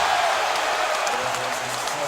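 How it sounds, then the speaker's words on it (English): Basketball crowd at Barclays Center roaring after a Knicks basket: a steady, loud wash of cheering and applause that carries through the whole moment with no break. "That's a pretty loud cheer"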